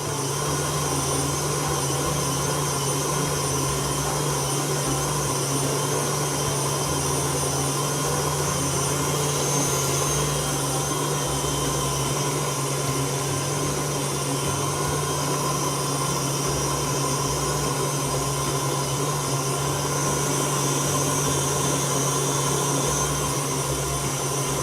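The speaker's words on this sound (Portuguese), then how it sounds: "Então agora eu levo de volta para a batedeira, com o creme de leite que eu coloquei" A stand mixer beats cake batter with added cream, a steady close whirring motor drone with a constant hum and busy beating texture that runs unchanged throughout, no voices over it.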